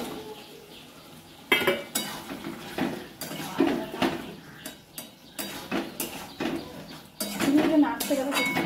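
Paneer going into a pan and being stirred brings repeated metal clinks and scrapes of a utensil against the pan, arriving in irregular bursts over a low background sizzle, close and fairly loud, with some voice in the background.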